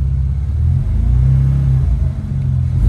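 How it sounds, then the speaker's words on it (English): Built engine in a BMW E90 revving in neutral, a loud, steady low rumble that swells and dips with throttle blips, heard close up with no talking. "Engine sounds okay, which is sort of a relief."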